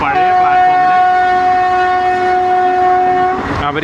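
A train on the Parassala to Nagercoil line sounds a long, loud, steady horn as it passes, the blast holding for over three seconds before cutting off into rumbling rail noise.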